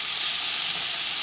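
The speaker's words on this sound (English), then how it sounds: "vegetables are frying in the pot" Vegetables stir-fry at high heat in a pot, a steady bright sizzling hiss, close and continuous with no voices.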